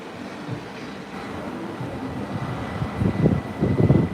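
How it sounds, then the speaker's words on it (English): An American Airlines Airbus jet rolls down the runway on takeoff, its engines a rising low roar that swells and grows closer and louder toward the end, with no voices. "You can hear those engines now, it's coming by us."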